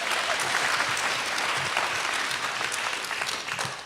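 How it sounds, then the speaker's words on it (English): Steady, dense applause from an audience clapping for two student timekeepers at a storytelling event, sustained at even strength throughout and easing slightly at the very end. "let's clap for them again"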